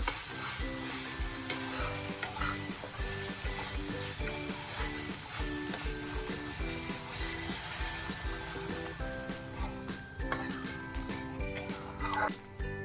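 Panch phoron spices and black mustard seeds frying and being stirred in a pan, a steady close sizzle with scraping stir strokes throughout, no talking.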